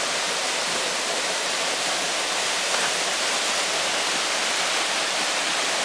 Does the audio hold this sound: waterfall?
yes